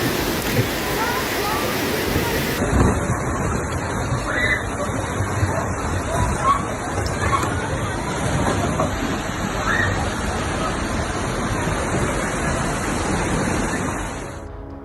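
Torrential rain and rushing floodwater fill the streets of Istanbul in a dense, continuous roar, with faint voices in the background and the sound fading near the end.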